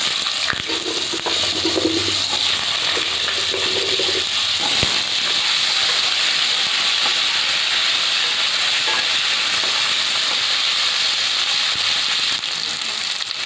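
Potatoes frying with slit green chillies in a pan make a loud, constant hiss of sizzling oil, with a few early scrapes and knocks of stirring, close and without speech.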